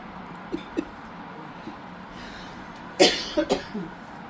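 A couple of sharp coughs burst out close by after a few soft clicks, followed by a smaller rasping cough.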